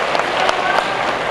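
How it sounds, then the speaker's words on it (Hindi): Loud, dense applause from a large crowd at a political event welcomes students, a continuous close wash of clapping without speech. "एक बार जोरदार ताली से इनका स्वागत इसलिए कीजिए"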